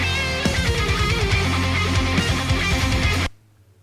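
Old school metal-style backing track playing loud and dense with steady driving rhythm, cutting off abruptly near the end into silence.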